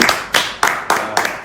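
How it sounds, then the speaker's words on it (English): Hands clap in a slow, deliberate run of about six loud, close claps spaced evenly, applauding a donor at a live online fundraiser with no talking over them. "give him a round of applause"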